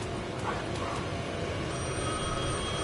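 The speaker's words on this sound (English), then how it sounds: "The phone was ringing again." In the Alan Wake video game, a telephone bell rings under a steady rain-like hiss. Its tone is faint and continuous, with no talking.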